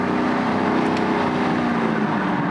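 A Camaro with an MBRP cat-back exhaust pulls hard, its deep engine roar rising steadily and loud from inside the car, with no pause or talk.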